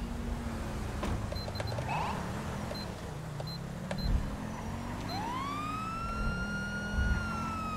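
A police car siren wails in GTA V during a highway patrol, a rising electronic tone over steady engine and road noise, fairly close and without talk.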